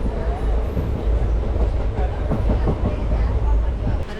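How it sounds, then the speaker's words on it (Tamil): A passenger train runs on rails with a steady, loud rumble and rhythmic clickety-clack from the wheels. Faint voices are heard inside the carriage. "இப்போ வந்து சீர்காழி வந்துட்டோம் இங்கே ட்ரெயின் நிற்கிது"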